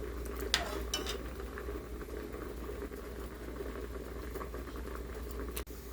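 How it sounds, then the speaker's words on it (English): Pieces of dough drop into a pot of boiling conch soup, with a continuous bubbling simmer, soft plops and patter, and a few light clinks of a utensil against the pot. "Adding my dough to the soup."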